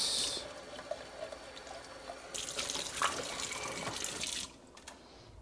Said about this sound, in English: Just gonna do one more rinse.